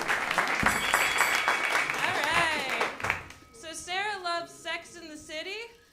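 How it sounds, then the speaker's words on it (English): Podcast studio audience applauding for about three seconds, loud mixed clapping, then fading out as a voice speaks over it. "Y'all give them a round of applause."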